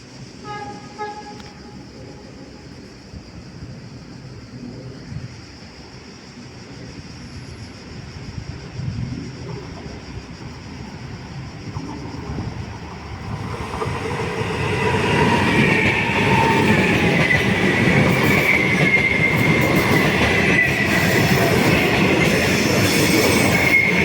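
A Trenitalia regional train rolls into a platform at Padova station with a rising rumble and metallic wheel squeal that grows loud and steady toward the end, no voices audible.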